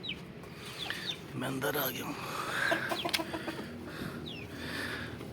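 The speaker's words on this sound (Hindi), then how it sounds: "मैंने अपने मुर्गे मुर्गियों को बाहर निकाला है" Backyard chickens and a rooster cluck and call in short bursts close by, with someone talking over them.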